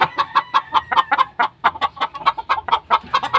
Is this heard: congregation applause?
no